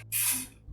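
Hair spray hisses from an aerosol can in one short, close burst of about half a second, applied before a home haircut and trimmer lineup.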